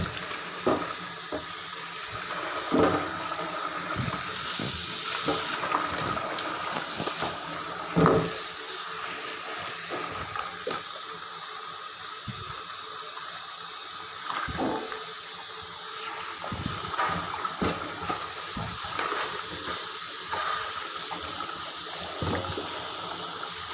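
Running water from a kitchen tap pours steadily over chicken meat being soaked, a continuous hissing splash with occasional clunks and knocks of handling, heard alone without talk.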